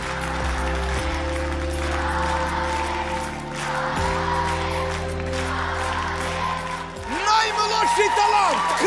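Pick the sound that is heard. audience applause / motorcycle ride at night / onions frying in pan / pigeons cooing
audience applause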